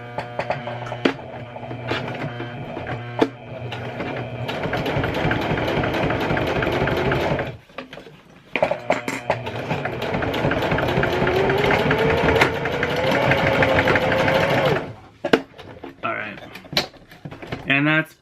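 A sewing machine stitches straight across the corner of a Longchamp handbag in long, steady runs of rapid clatter, close by, with brief stops between runs and a voice talking over it.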